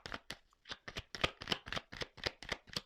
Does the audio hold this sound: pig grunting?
no